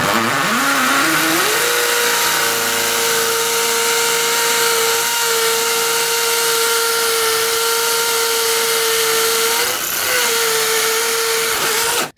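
A hammer drill in hammer mode boring into brick and sand-and-cement mortar, a loud, steady, close whine with a rattling percussive edge that rises in pitch early on and holds for the whole stretch with one brief dip.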